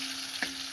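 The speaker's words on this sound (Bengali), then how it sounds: "পটল ভাজা করছি" Pointed gourd (potol) slices fry in a pan with a steady close sizzle and a brief stir or clink partway through, no voices.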